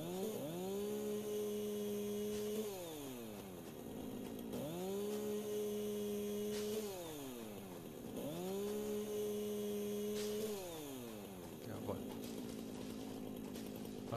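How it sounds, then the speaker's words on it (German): Chainsaws in the video game Satisfactory rev in repeated cycles, each rising whine holding steady before dropping away, three times in a row with a final short burst, while a voice talks over them. "Kettensägen mal weg."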